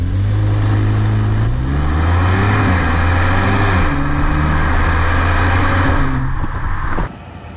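A Mercedes GLB35 AMG engine pulls hard under sustained acceleration, loud and close with rising harmonic tones through gear changes, the drone easing and dropping away at the end.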